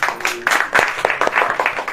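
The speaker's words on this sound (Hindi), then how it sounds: "तालियां हो जाएगी कि नहीं?" Applause from a church meeting congregation, a dense patter of many hands clapping steadily for about two seconds, moderately loud and fairly close.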